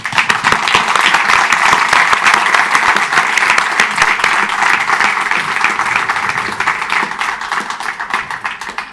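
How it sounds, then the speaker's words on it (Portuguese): Loud, sustained applause fills the hall at an education panel as the audience claps for the teachers, many hands clattering densely and close, then easing slightly toward the end. "sinto que nós devíamos dar uma salva de palmas aos"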